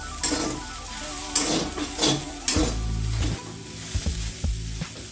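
Boiled soybean chunks fry in mustard oil in a wok, a close, steady sizzle broken by stirring scrapes and several clanks of a utensil against the pan.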